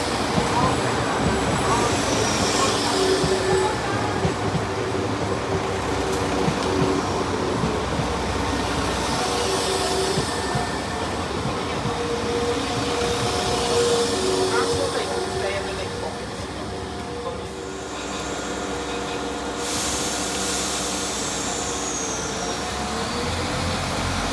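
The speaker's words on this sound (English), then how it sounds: "to see a West Midlands Railway Class 172 pull into the station on the 1848 service towards Birmingham Moor Street" A West Midlands Railway Class 172 diesel unit rolls into a station on a Birmingham Moor Street service, a steady rumbling engine and wheel noise with airy hiss that eases slightly as it slows.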